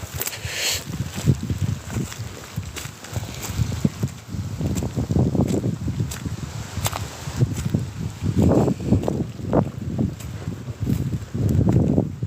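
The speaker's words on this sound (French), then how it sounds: "c'est casse-pied le vent là" Wind buffets the microphone at an abandoned aluminium factory in repeated low rumbling gusts, loud and uneven, with occasional rustling and no talk.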